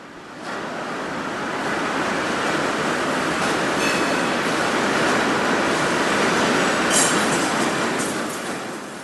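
An SNCF BB 63000 diesel locomotive shunts a rake of passenger cars in a station, a loud continuous rolling rumble and roar of rail traffic that swells and holds steady throughout.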